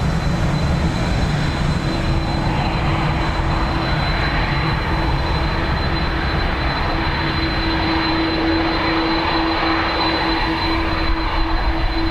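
A United Dreamliner lined up at Dublin Airport hums with a steady engine roar and sustained high whine, constant and moderately near, with a low tone rising in the second half.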